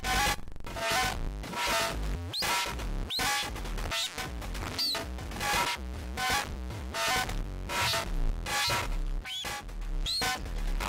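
A Schlappi Engineering Angle Grinder synth module in high mode, its dampened oscillator animated, gives a loud, dense, harsh buzzing tone with a shifting, pulsing texture that runs unbroken for the whole stretch, with no voices.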